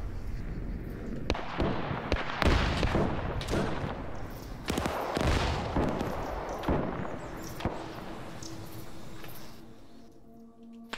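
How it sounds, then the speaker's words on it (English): Rapid bursts of Arma 3 video game gunfire crack and echo repeatedly, dense at first and thinning out toward the end, fairly loud with no talking. "player base is gonna regroup with all the gunshot sounds they're hearing over here"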